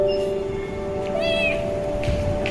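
A well-fed kampung cat gives a short, close meow over a steady background hum, with a fainter mew following a moment later.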